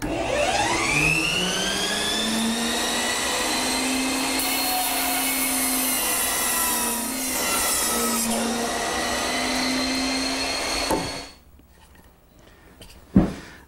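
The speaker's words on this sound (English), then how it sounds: "Now I'm going to resaw it in half again." A bandsaw resaws a wooden workpiece. The loud, steady whine of the blade through the wood holds for about eleven seconds, then drops to a quiet hum, with a sharp knock near the end.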